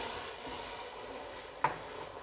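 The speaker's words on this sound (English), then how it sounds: "And so I'm going to add a cup of red wine. And just give it a stir." A spoon scrapes and stirs through a pot of beef brisket as red wine is mixed in, giving a faint, soft swish under a gentle sizzle and one brief clink against the pot.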